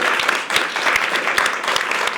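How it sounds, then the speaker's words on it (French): A studio audience on a talk show applauds, a dense, steady burst of many hands clapping close and loud throughout. "On peut l'applaudir bien fort."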